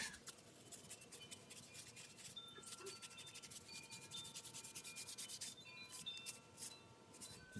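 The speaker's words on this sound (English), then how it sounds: "Alright, I'll scuff this up." A piece is scuffed by hand before contrast staining, with fast, continuous scratchy rubbing strokes that stay close and fairly quiet throughout.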